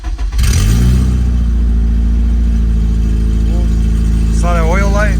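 A Honda RSX engine firing up after sitting for three months, catching with a burst and settling into a steady loud idle that runs throughout, with a voice speaking briefly near the end.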